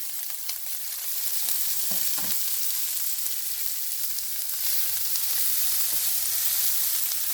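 Green chillies and onions sauté in a hot pan for egg fried rice, giving a steady, close sizzle with a few soft stirring knocks early on and no talking.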